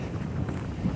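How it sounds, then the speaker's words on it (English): Gusty wind rumbles against the microphone in a steady, blustery roar with no voices, at a freezing snow campsite. "That wind is blowing."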